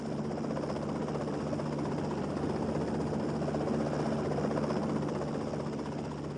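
A Lockheed AH-56 Cheyenne attack helicopter in flight gives off a steady, dense rotor and engine drone, loud and unbroken throughout with no voices.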